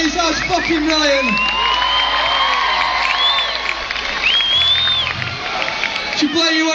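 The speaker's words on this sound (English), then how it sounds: "applause for yourself" Concert crowd at a gig cheering, whooping and clapping, with shrill whistles rising above a dense, steady roar that stays loud throughout.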